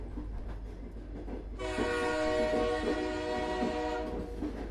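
A cartoon train in a Bengali horror story, heard as a steady, loud rail rumble that swells in abruptly, with tonal horn-like bands sustained over it.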